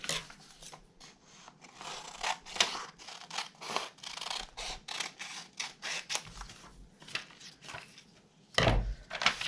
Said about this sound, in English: And then we're going to cut off the extra.